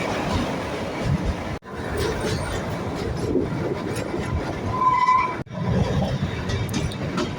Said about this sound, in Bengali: পাহাড়ের গোল দিয়ে যাচ্ছে আমাদের ট্রেন